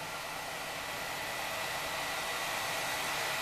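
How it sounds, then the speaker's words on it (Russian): Steady, even rush of hot air blowing from a soldering station's hot air nozzle set to 300 degrees, a constant broadband hiss close by with no pauses or voices. "Фен у нас 300 градусов стоит на паяльной станции"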